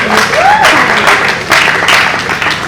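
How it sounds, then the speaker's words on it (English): An audience applauds a panel member at a panel discussion, with loud sustained clapping from a crowd and a brief tone sounding near the start. "A round of applause for her."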